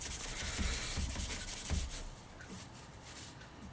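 A handful of wood shavings rubbed over a flat wood surface to burnish it makes a soft, close scuffing and swishing in quick repeated strokes, fading a little toward the end.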